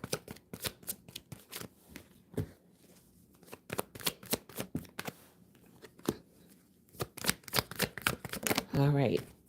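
Tarot cards shuffled in quick bursts of crisp riffling and soft slaps, then laid out one by one, with a voice talking between the bursts.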